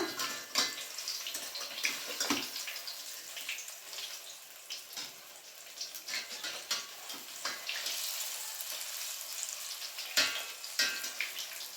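Bajji fritters fry in hot oil, giving a bright crackling sizzle close by, broken by irregular clinks and scrapes as the pieces are turned over in the pan.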